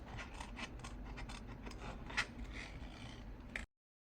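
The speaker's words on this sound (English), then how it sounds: "So I'm just going to cut them up roughly, fussy cut them." Scissors snip roughly through paper, cutting out drying pieces with a small border left around them, a steady run of close crisp cuts with one sharper snip partway through, no voices.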